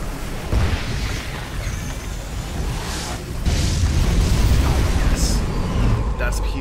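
A superweapon strike from an ion cannon in a real-time strategy game lands as a sustained heavy rumbling blast that swells midway and stays loud, with game voices and effects layered on top.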